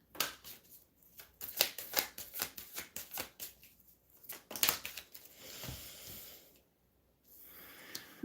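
A tarot card is drawn from a deck, with a run of crisp rustling and flicking card sounds followed by a softer slide and quiet shuffling, close and fairly faint, no talking.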